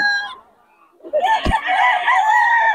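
A young gamecock stag, a 10-month-old banded rooster, crows once loudly and close by in a single sustained call with a wavering tone. A brief high cluck or call comes just before it.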